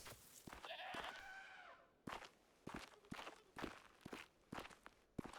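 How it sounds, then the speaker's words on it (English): A goat bleats once near the start in the video game Rising World, with faint footsteps crunching steadily afterward in a quiet outdoor African setting. "Okay, we've got some goats over there."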